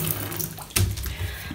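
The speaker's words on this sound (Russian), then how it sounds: "Я дома набираю свою лейку" Cold tap water pours into a 10-litre watering can at home, a close gushing fill with a brief louder splash burst in the middle, no voices.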